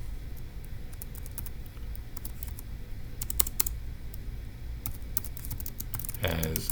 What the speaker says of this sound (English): So let's go type that up in our notes